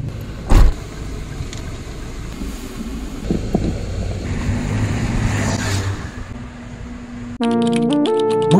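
A car travelling by road toward Boracay Island, cabin rumble and wind noise running steadily, with a couple of brief thumps, before a sudden switch to a tonal electronic sound near the end.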